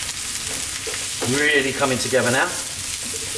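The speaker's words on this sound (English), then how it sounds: "stir frying away." A steady hiss of vegetables stir-frying in a hot pan over high heat runs throughout while someone speaks briefly over it.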